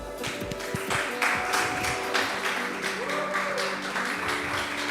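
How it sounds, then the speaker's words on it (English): An audience at a hackathon kickoff event applauds steadily for several seconds, a dense wash of clapping over a busy room with some faint tonal background sound. "may we have a round of applause for them, please?"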